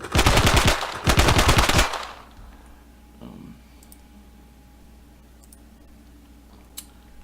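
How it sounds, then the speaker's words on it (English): A full-auto weapon in an RPG Framework video game fires two loud rapid bursts back to back, lasting under two seconds in total, followed by a quiet hum and a faint click. "we have one weapon that fires a full auto"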